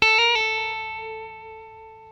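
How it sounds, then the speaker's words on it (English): A single sustained electric guitar note with a quick hammer-on and pull-off near the start, ringing out and slowly decaying, clean and close; from the end solo of a song. "Hammer on and pull off."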